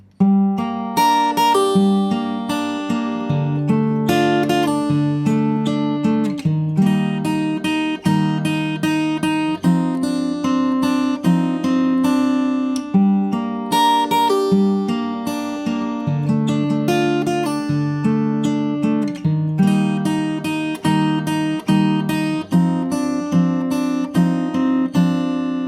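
A fingerstyle acoustic guitar plays the pre-chorus of a song, plucked chords and steady arpeggiated notes flowing continuously, clear and close with no voice.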